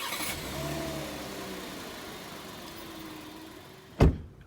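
A 2019 VW Atlas SEL R-Line engine starting by remote start: a steady, close engine hum over several seconds ends in a sharp, loud burst as the engine fires, with no talk.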